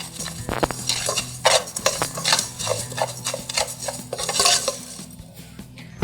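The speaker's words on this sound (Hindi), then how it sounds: "यहाँ पर हम इसे भून रहे हैं" Ingredients roast in a pan on a low flame, a spoon repeatedly scraping and clinking against the metal in an uneven rhythm over a soft sizzle.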